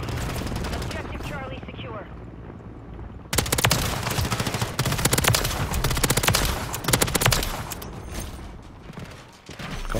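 In a first-person shooter video game, a RAM-9 submachine gun fires in rapid dense bursts with mechanical clicks between them, loud and close. A player talks over the gunfire.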